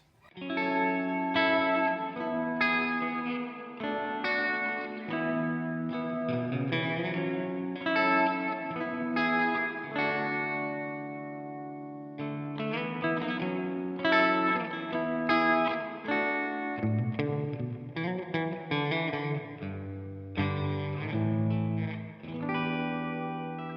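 An electric guitar plays a continuous run of sustained chords and melodic notes through a Walrus Audio Fundamental reverb pedal in plate mode, giving a washy, shimmering tail. It is played alone, with no talking.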